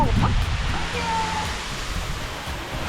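A waterfall pours into a cold, shallow swimming hole, giving a loud, steady broadband rush of falling water that fills the whole moment without a break.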